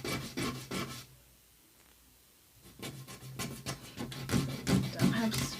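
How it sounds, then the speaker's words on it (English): Wooden popsicle sticks filed smooth by hand, quick rhythmic rasping strokes up close that pause briefly in the middle and then resume, a little faster, with no talking. "So you can file it to make it smooth"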